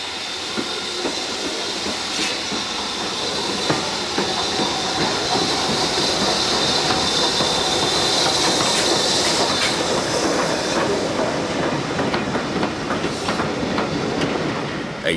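Standard Tank steam locomotive 80079 on the Severn Valley Railway departing eastbound for Kidderminster, a steady loud rumble and hiss with rhythmic wheel clatter running throughout, no voices.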